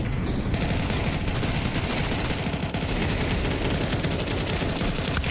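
Dense, continuous gunfire from Counter-Strike 2 at an esports match, many overlapping rapid shots forming a loud, unbroken roar of weapons fire throughout.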